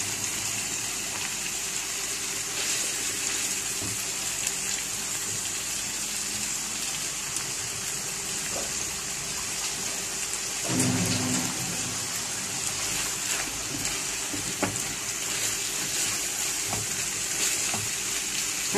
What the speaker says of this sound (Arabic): هديها نص كوبايه من الميه